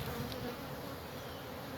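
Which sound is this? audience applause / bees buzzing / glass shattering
bees buzzing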